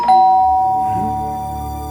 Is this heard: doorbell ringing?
yes